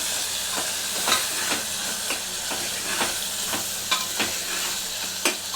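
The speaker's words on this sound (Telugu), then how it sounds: "ఈ పుదీనా మంచిగా వేగాలి" Mint leaves fry in oil in a pan for village-style country chicken curry, a steady close sizzle punctuated by regular clicks and taps of a spoon stirring against the pan.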